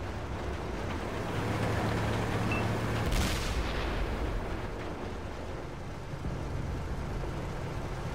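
Tank cannon fire in World of Tanks, a single heavy blast landing about three seconds in over a constant loud engine and battle rumble.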